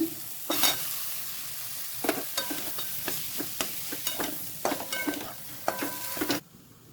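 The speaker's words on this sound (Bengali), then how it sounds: "আলুটা 2 মিনিট কষে নিলাম।" Potatoes fry in a spiced masala for egg chop, with a steady sizzle under repeated scraping and stirring strokes of a utensil against the pan. The sound is close and continuous until it cuts off near the end.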